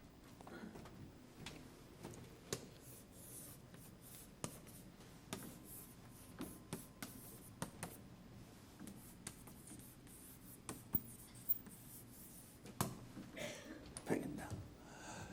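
Pen strokes scratch and tap on paper as someone writes Korean characters by hand, a series of short, faint, irregular strokes in a quiet room.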